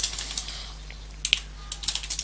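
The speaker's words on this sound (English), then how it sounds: "Now we need to go ahead and type in as root." Keys clatter on a computer keyboard while a command is entered in a Linux terminal, a quick irregular run of light taps with a louder cluster near the end, close and alone with no talk.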